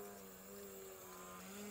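Radio-controlled 3D model airplane hovering nose-up, its propeller engine giving a steady, sustained drone with a stable pitch throughout, moderately loud and at some distance, with no other sounds.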